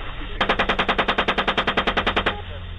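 A machine gun fires in combat, one sustained burst of about twenty rapid, evenly spaced shots, loud and sharp, starting abruptly and stopping after roughly two seconds.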